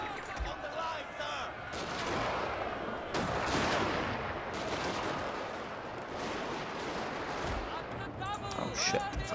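Musket volleys and artillery blasts boom in a Shogun 2 Fall of the Samurai battle, a heavy rolling wall of firing with thuds and cracks as someone speaks now and then.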